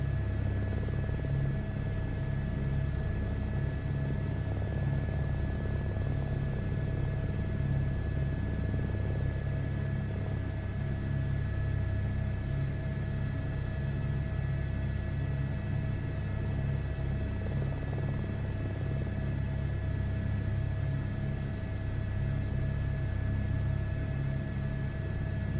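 A helicopter taxiing in a VR flight simulator, its engine and rotor giving a steady, loud droning rumble with a constant whine that holds unchanged throughout.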